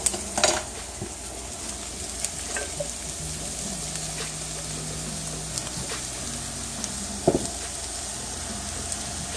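Onions and apples frying in a pan for a white sweet potato and apple hash, a soft steady sizzle with occasional stirring and utensil clinks against the pan, fairly close and quiet.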